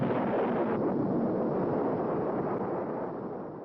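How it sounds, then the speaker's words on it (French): A deep, sustained rumble from the Sedan nuclear test explosion in the Nevada desert, loud and continuous like a distant roaring blast, holding steady before slowly tapering off near the end. "L'explosion de la bombe Sedan fait partie des 928 essais nucléaires menés par les États-Unis dans ce désert"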